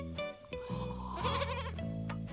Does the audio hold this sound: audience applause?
no